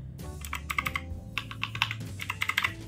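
Keys clack on a Rexus Heroic RX-KX3 compact 75% mechanical keyboard, in quick clustered bursts of close, crisp keystrokes separated by brief pauses.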